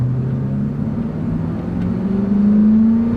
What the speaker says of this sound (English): You can hear that engine.